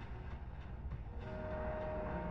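A train in a Fortnite Chapter 5 Season 1 match rumbles and clatters steadily at moderate volume, growing slightly louder, with a faint thin whistle-like tone running through it.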